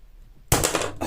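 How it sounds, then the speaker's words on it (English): Wire snips bite through a recycled bass guitar string with one sudden, loud snap after a quiet pause, followed by a short metallic ringing rattle. "So I'll try with the slightly bigger snips first"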